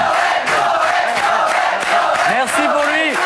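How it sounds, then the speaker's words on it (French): Loud studio crowd on a French TV entertainment show cheering and whooping with clapping underneath, a dense steady roar with shouted voices rising through it. "tous ces applaudissements"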